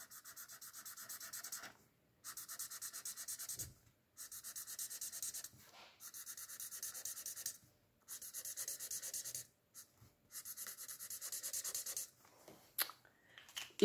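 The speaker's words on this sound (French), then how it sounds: "vous devrez prendre le brun clair, voilà, et colorier juste à l'intérieur" A light brown colored pencil scratches steadily across paper while filling in a pixel-art Minecraft diamond axe drawing, in close, soft rubbing strokes broken into bursts of about two seconds with short pauses, no talking.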